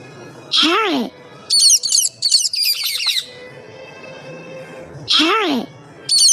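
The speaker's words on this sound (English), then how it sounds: "Parrot." A parrot squawking and chattering, with loud bursts of harsh squawks and rapid chirps in uneven clusters, close and clear, separated by brief quieter gaps.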